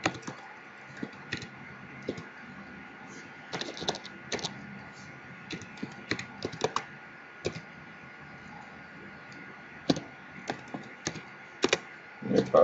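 Typing on a computer keyboard, with irregular bursts of crisp key clicks close up over a quiet steady background.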